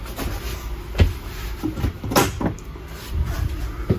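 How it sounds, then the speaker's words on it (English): A door inside a 2022 Palomino Puma 25BHFQ travel trailer is opened, producing several close knocks, clunks and sliding bumps spread across a few seconds, with no talking over them. "And then open this door."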